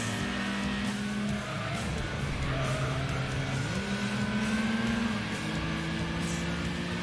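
A Nissan Pulsar race car engine in Gran Turismo 2 drones steadily and loudly, its pitch dipping and climbing through gear changes, with faint tire noise throughout.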